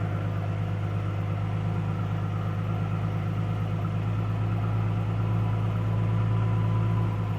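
A 2007 Mustang V6 idles through a junkyard muffler, giving a steady, droning low rumble with a constant hum that holds evenly the whole time, close by and with no voices.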